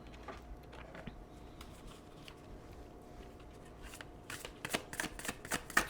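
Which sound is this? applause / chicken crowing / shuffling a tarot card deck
shuffling a tarot card deck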